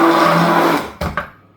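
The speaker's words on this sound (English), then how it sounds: "And then we immersion blend." An immersion blender whirs steadily through a popsicle mixture, a loud continuous motor drone that cuts out near the end and leaves a couple of short knocks and clatters.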